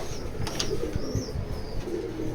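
Pigeons in a loft give soft, low cooing and some light wing flutter, close and continuous under a busy ambient hum, with no one speaking.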